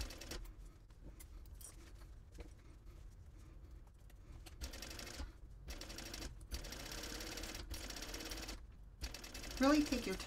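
A sewing machine stitches slowly around the corner of a zipper on a packing cube, its needle clattering in short bursts with frequent pauses, quiet and close.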